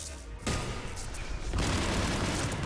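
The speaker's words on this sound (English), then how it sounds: "Big explosions." Explosions in the video game Mass Effect 3 boom out in two loud, rumbling bursts that leave a dense, roaring wash of battle noise behind them.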